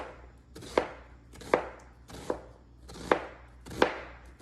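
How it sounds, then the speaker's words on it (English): A knife thinly slices half an onion on a cutting board in a Jamaican home kitchen, five crisp chopping strokes landing at an uneven, unhurried pace, close and clear with no talk. "Gonna slice up half an onion."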